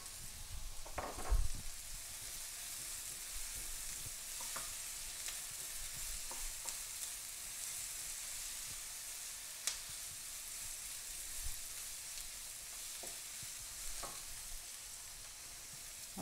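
Chiles frying in a pan, a faint steady sizzle with occasional stirring taps and scrapes, quiet and close with no talk.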